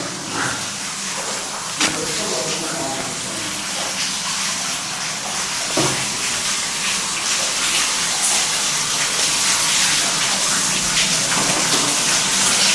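Running water gushes steadily inside an abandoned building, a loud, continuous broadband hiss that fills the space for the whole stretch with no pause or change, heard close by and alone.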